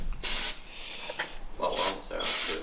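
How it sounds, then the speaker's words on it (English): Aerosol cleaner hisses onto the front disc brake caliper of a 1993 Honda Civic DX, three strong bursts of close spraying separated by pauses with talk between them. "Should I just go ham with this and spray the whole thing?"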